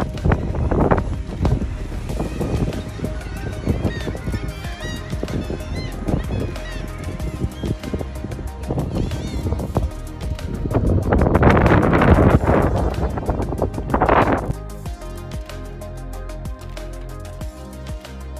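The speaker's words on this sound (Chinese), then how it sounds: "风声如战鼓，轰隆隆作响" Strong wind roars and buffets the microphone beside sea caves on the Icelandic coast, in gusty surges that peak midway, with screeching seabirds and faint voices scattered through the noise.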